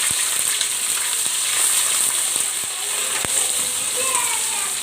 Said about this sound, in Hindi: चिकन ऐड करने से पहले हम इसमें डाल देंगे अपना अदरक लहसुन का पेस्ट